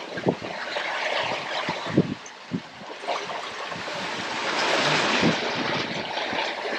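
Wind rushes steadily across a sailboat at sea in about 11 knots of breeze, with water swishing and lapping against the hull in uneven surges and a few low bumps, loud and close with no talking.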